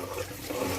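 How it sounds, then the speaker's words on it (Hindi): About 50 ml of water is poured into a cooking pan of oil-fried garlic, ginger and tomato for a radish and spinach bhujia, making a brief close rushing splash. "पानी ऐड कर रहा हूँ थोड़ा सा"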